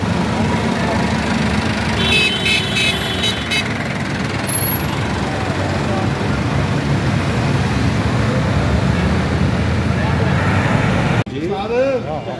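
A Massey Ferguson 385 Deluxe tractor, a new 2024 model, runs at a steady idle, its low engine rumble continuous and fairly loud close by, broken briefly near the end.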